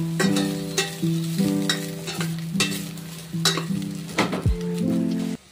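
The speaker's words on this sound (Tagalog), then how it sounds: "Nilagay ko na yung bawang, sibuyas. At nung nag-golden brown na siya, ilagay na din natin tong hinimay ko na chicken." Shredded chicken fries in oil with golden-browned garlic and onion, sizzling steadily up close while a utensil stirs and scrapes the pan in a repeated rhythm of clinks.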